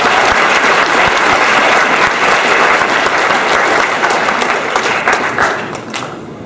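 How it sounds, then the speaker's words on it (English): A school awards ceremony for varsity athletes fills with loud, sustained applause from a crowd, steady clapping that gradually thins and fades toward the end. "Let's give all those a round of"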